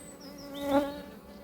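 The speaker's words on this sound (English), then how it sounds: "this is why I like these Caucasian bees" Caucasian honey bees buzz steadily nearby at an apiary, a humming drone that swells briefly as one passes close, then settles back.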